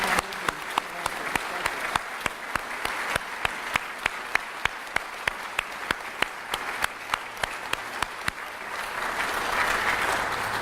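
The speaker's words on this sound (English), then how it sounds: "if you all could join me in a round of applause for our military and our first responders" A crowd gives sustained applause for the military and first responders at a 9/11 remembrance gathering, steady clapping with distinct sharp claps throughout, fairly close and loud, fading slightly near the end.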